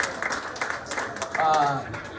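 A bar crowd claps and cheers for military members in the audience, a short, fairly loud burst of applause mixed with whoops and voices.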